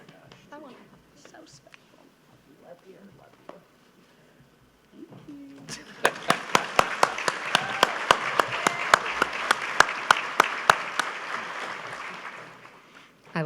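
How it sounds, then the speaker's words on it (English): Applause for a Good Samaritan award honoree breaks out after a quiet stretch, a dense wash of clapping joined by a run of loud, sharp claps close by, with faint murmuring before it. "I clapped so loud"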